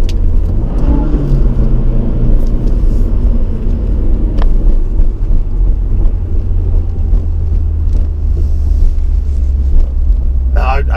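A 2022 Subaru WRX roars through a launch-control start with flat-foot shifting, a loud continuous engine and road rumble with wind buffeting, heard close and steady throughout.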